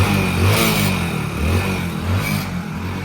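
A BS6 motorcycle at a bike mechanic training workshop, its engine started after a rebuild: close, steady idling with a throbbing low rumble and mechanical clatter, plus a couple of brief throttle swells.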